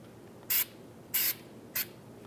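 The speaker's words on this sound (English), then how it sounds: "Just going to spray some anti-seize on here." Three short hissing bursts from an aerosol can of anti-seize, close by, separated by brief pauses over a quiet background, while working on a Volkswagen Beetle's front wheel hub.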